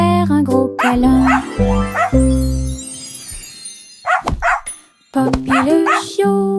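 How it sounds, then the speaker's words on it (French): A cartoon puppy in a children's nursery-rhyme song yaps in quick high barks over a bouncy musical backing, with the music dropping out briefly between bursts. "Elle a couru après sa queue et a finalement aboyé."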